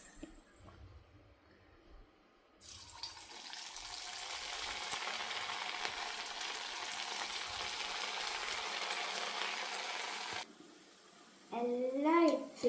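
Potato balls dropped into hot oil set off a loud, steady sizzling hiss that starts abruptly and runs for several seconds before cutting off, with a few faint clinks and a short voice near the end.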